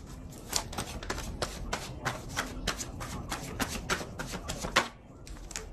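Tarot cards being shuffled by hand, a quick run of crisp riffling slaps and flutters in a steady rhythm, close and clear, stopping abruptly near the end.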